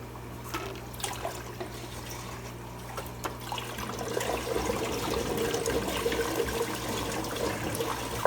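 Water runs through the Y-pipe siphon tube of an overflow on a fish room aquarium, a steady close trickling and gurgling flow with no talk.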